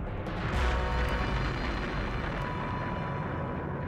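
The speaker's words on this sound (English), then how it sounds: "Massive asteroid impacts." Massive asteroid impact explosion effect, a dense roaring rumble that swells at the start and then sustains as a heavy, continuous low boom.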